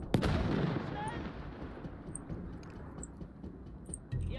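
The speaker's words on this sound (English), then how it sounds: "Take that grenade." A grenade blast and gunfire in Battlefield 1, a loud close explosion at the start fading into a rumbling battlefield din with scattered shots, and someone talking over it.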